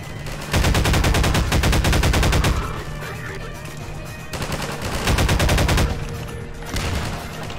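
Rapid automatic gunfire in Half-Life 2, two long loud bursts of fast repeated shots separated by a short pause, close and dominant.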